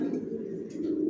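Pigeons in a loft, weakened birds kept loose on the floor during building work, coo in a low continuous murmur that fills the whole moment at close range, with faint higher bird chirps over the top.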